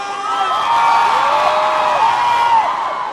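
A large crowd at a live music performance cheers and whoops loudly and continuously, with high shouts rising over a dense roar of voices.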